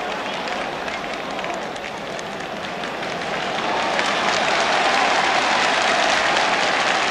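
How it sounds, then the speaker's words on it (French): Stadium crowd applauding the French captain and defensive leader André Leron during a 1961–62 France versus Spain friendly, a broad, distant roar of clapping that swells and stays steady. "Ces applaudissements que vous entendez vont à l'adresse du capitaine et chef de la défense française André Leron"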